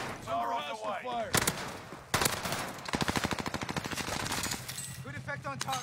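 Video game machine gun fire breaks out in loud rapid bursts, including one long rattling stream, with in-game voices talking before and after the shooting.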